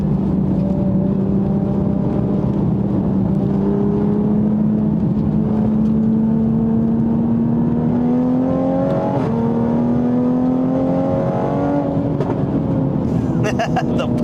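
A tracked-version 2020 Toyota Supra's engine drones loud and close, its pitch climbing steadily under load, with a few sharp exhaust pops breaking through near the end.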